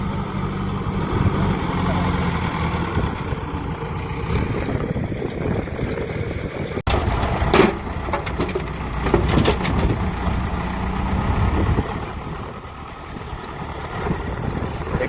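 A tractor's engine idles steadily at a roadside stop while it is being loaded, a low continuous rumble mixed with wind noise, with people talking nearby over it.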